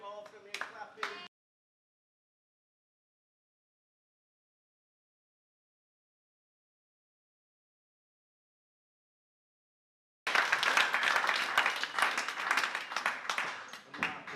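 Wedding guests at Liverpool's Philharmonic Hall applauding the bride, a dense burst of clapping that starts after a long silence and carries on loudly, following a brief spoken phrase.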